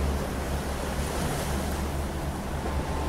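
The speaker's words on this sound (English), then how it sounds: "really nice texture with the wave sounds" Ocean waves used as a sound effect in a reggaeton song wash in a steady, close roar of surf, with wind-like hiss over the full three seconds.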